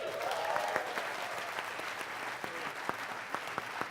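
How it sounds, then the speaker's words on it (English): Audience at a conference clapping for a guest, steady dense applause filling the room with a few sharper individual claps standing out. "Please give him a hand."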